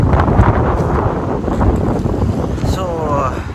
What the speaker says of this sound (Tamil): பயங்கர காற்று, பயங்கர மண்.